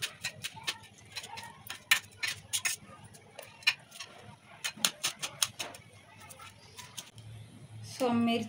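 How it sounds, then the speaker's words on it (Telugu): Knife chopping green chillies on a cutting board while making rice-flour pappu chekkalu, a series of crisp irregular taps in quick clusters, close and fairly clear, with someone talking over them. "సో మిర్చీలు కట్ చేసుకుంది"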